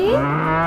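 A cow lets out a single deep, sustained moo, loud and close, with nothing else heard.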